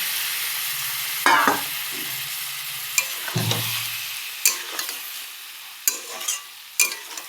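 A splash of water used to rinse a stone grinding slab after crushing mustard seeds hits a hot frying pan, giving a loud hiss that fades into steady sizzling, with scattered stirring clanks and scrapes and no talking.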